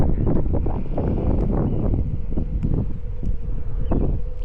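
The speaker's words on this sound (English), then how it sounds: "Ooh, it is crazy windy" Strong wind gusts pound an Insta360 camera microphone while cycling, a low, thumping roar, steady and loud throughout.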